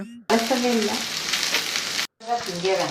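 Spicy noodles with paste fry loudly in a pan, giving a bright, crackling sizzle that cuts out for a moment and returns, while a voice speaks over the hiss.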